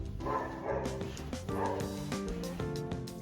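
A pet dog barks repeatedly in the background of a home computer-setup room, several sharp yips and bow-wows in quick succession, fairly loud and with no talk over them.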